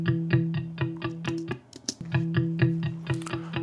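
Mondomod Meta Flanger effect pedal processing a steady repeating tone, swept slowly back and forth between left and right, with a short break in the pattern midway.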